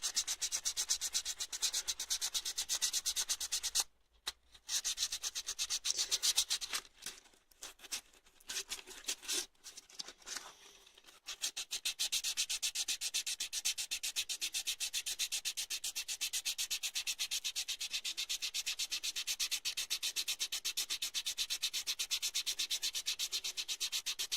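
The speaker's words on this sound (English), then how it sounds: "I'm going to try and clean it up with a bit of, this is 400 grit wet and dry" Hand sanding a Classic Mini rocker switch with 400 grit wet and dry paper: continuous close rapid rubbing strokes, briefly pausing and stuttering midway before resuming steadily.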